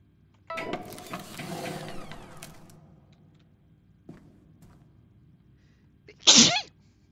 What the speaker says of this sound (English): I'm really, I want to sneeze.